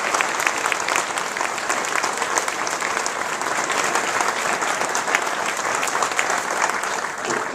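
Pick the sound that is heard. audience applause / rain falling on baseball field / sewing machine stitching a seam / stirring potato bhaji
audience applause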